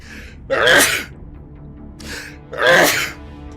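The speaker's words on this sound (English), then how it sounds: "Hang on, I'm going to sneeze." Two sneezes from a person, each a loud burst with a sharp intake before it, spaced about two seconds apart, close and clear with no talk.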